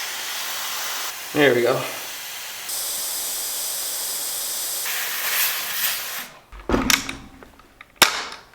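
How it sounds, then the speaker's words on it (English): Air hisses from the valve of a big-bore .50 caliber air rifle in a few steady bursts, followed by sharp clanking and handling noises and a brief spoken remark. "open the valve and just let some air out"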